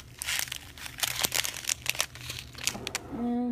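A plastic package of pearlescent lustered beads crinkles and crunches as it is handled and opened nearby, with a steady run of soft rustling bursts ending in a brief tonal hum.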